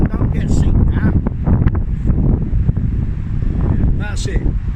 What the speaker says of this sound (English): It's windy, but it's fantastic.